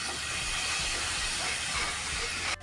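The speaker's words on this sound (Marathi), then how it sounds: "2 मिनिटं मटकी तेलामध्ये परतून घ्यायची आहे" Sprouted moth beans (matki) sauté in hot oil for misal, giving a steady, close, broad sizzling hiss that holds evenly and then cuts off abruptly near the end.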